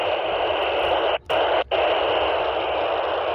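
Steady hiss of static from a handheld 2m VHF walkie talkie on a quiet channel, a constant wash of noise broken by two brief dropouts, with no talking.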